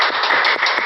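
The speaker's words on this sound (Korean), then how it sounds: "여러분 감사의 큰 박수 다시 한번 부탁드리겠습니다" Audience applause at an APEC team meeting after a leader's opening speech: a dense, steady wash of many hands clapping close together, sustained and fairly loud throughout with no voices.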